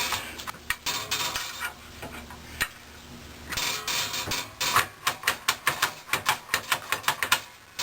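Screws being tightened on a Harbor Freight bandsaw: a run of sharp ratcheting clicks in quick, uneven succession, close and fairly loud, growing into a steady rhythmic series of ticks toward the end.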